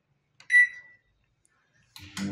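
A Dawlance microwave oven, just repaired with a new magnetron and fuse, gives one short beep, then after a pause starts up with a steady low electrical hum that runs to the end.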